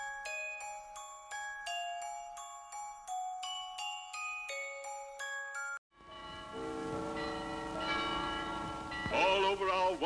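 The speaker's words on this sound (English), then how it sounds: "All over our wonderful nation, the bells are ringing." Bright bell tones struck in a steady repeating pattern, then a fuller, denser ringing of many bells overlapping with a rising wash of sound.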